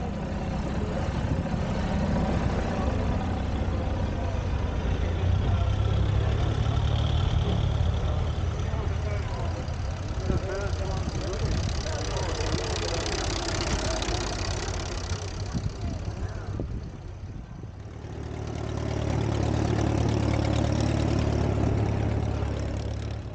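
Steam engines, one built in 1947, chug and rumble steadily as they circle the arena at Masham Steam Fayre, a low mechanical drone rising and falling, with a voice talking over it.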